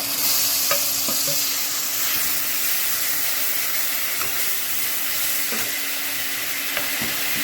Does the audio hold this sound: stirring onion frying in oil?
yes